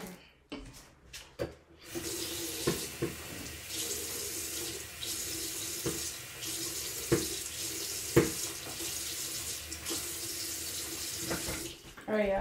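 Water runs steadily from a tap into a sink to refill a hair spray bottle, a continuous close rush with small knocks and clatter of handling, the flow opening after a brief pause at the start.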